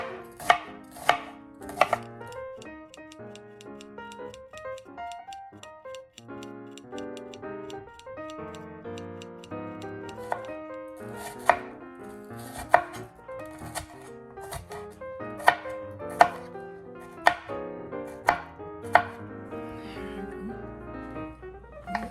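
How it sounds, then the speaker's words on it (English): A knife thinly slices bitter gourd on a cutting board, with irregular crisp taps and chops of the blade hitting the board, some clustered in quick bursts, sounding over soft background music. "And slice it thinly."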